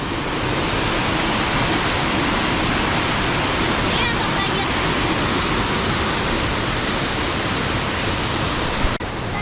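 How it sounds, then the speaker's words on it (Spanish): Waterfalls in La Vega, Cundinamarca give a loud, continuous broadband roar of rushing water that fills the whole stretch without pause. "Miren, desde acá se ve las primeras cascadas."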